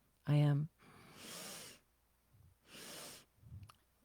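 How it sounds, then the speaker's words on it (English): A short voiced vocal sound, then two long, slow, hissing breaths, each followed by a faint softer breath noise. "I am doing Ujjayi breath"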